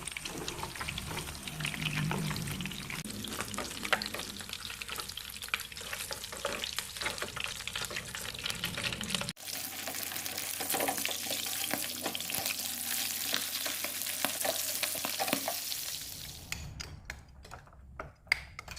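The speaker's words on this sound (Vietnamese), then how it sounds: "Cua này nó chỉ chiên sơ qua thôi." Oil sizzles and crackles steadily in a pan as crab is briefly fried, with frequent small pops, continuous throughout with a brief shift midway.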